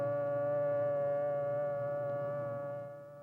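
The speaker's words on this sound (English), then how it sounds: "The signal is a long, steady blast on the civil defense sirens or other warning devices." A long, steady civil defense siren wail holds one pitch throughout, loud and continuous, easing slightly near the end.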